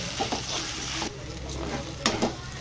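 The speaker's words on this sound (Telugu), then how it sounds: "అల్లం వెల్లిగడ్డ పేస్ట్ కూడా బాగా పచ్చి వాసన పోయేలాగా వేయించుకోవాలి." Ginger garlic paste fries in a pan with a steady, close sizzle. A utensil stirs it, adding a few brief scrapes near the start and again toward the end.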